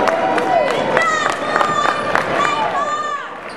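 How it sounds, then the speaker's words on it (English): Crowd applauding and cheering for the seniors of the Bartlett Golden Bears at a regional championship basketball game, a steady dense roar of clapping and voices throughout, with an announcer's voice heard over it. "Get a round of applause for the seniors from the Bartlett Golden Bears, please."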